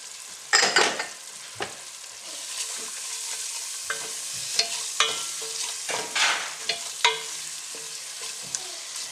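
Garlic and ginger sizzle steadily in a pot for Kenyan beef pilau, with repeated close scraping stirs cutting through the frying hiss; no one speaks.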